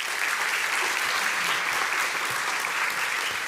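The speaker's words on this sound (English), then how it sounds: "Let's give a big round of applause to welcome David Quarry, United Kingdom Ambassador to NATO," A conference audience at a NATO youth summit in Brussels applauds to welcome an ambassador onstage, producing a thick, uniform wash of clapping from many hands, loud and unbroken from start to finish.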